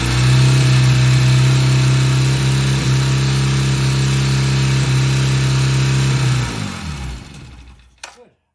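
A motorcycle engine runs loud and steady with a strong low drone after carburetor balancing, then winds down and cuts off near the end, followed by a brief clunk.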